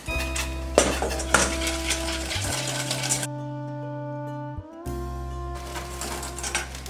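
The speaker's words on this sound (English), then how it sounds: "I'm going to whisk this rapidly over the heat, over medium heat, for about 2 to 3 minutes just to cook the eggs" Eggs for passionfruit curd being whisked rapidly in a saucepan over medium heat, with quick metallic clinks and scraping of a whisk against the pan over a steady hum, pausing briefly midway.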